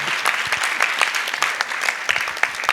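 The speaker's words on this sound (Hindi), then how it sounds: "सबका तालियां तालियां तालियां।" An audience at a Jain religious gathering in Gunayatan, Shikharji, Jharkhand claps steadily, a close, moderately loud wash of hand claps lasting under three seconds with no voices over it.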